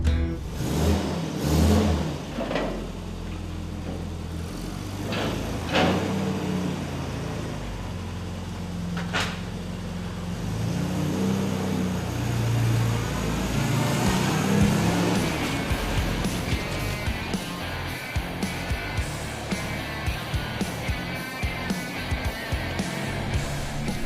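An Austin Mini Cooper S drives along the road, its engine note rising and falling with gear changes and revving, steady and fairly close throughout, with a few knocks and rattles from the cabin.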